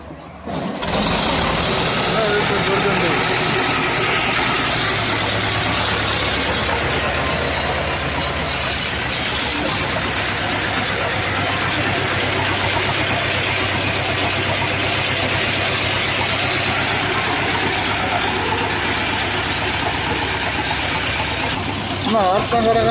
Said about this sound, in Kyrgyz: бул тракторду азыр биз жүргүзүп көрөбүз